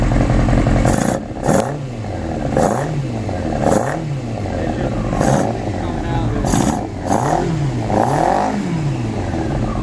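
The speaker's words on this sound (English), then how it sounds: "There is quite a bit of fuel going into there as that's being revved up." A carbureted Yamaha R6 5EB motorcycle engine, running rich, is revved repeatedly in close rhythmic blips, each rise and fall in pitch loud and near, with occasional spits and someone talking between them.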